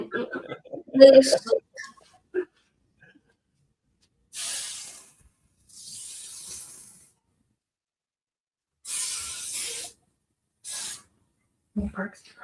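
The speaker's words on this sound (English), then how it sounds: "I'm gonna spray the excavator with" A voice speaks briefly, then four separate hissing spray bursts of polish onto a toy excavator follow with quiet pauses between them, close by; a short voice returns at the end.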